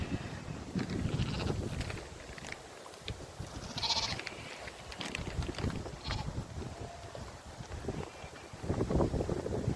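Sheep and lambs of several breeds bleat on a farm, with repeated calls at varying distances over wind noise and low outdoor rumble.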